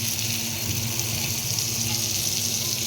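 Bread pancake frying in Amul butter on a pan, a steady, close, bright sizzle hissing continuously without pause, with a low hum underneath and no talking.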